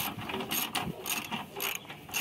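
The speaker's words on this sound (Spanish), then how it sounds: "vamos a apretar primero estos dos tornillos" Screws on a vibrating Honda are tightened with a ratcheting tool, giving rapid repeated mechanical clicking bursts close by, with no talk.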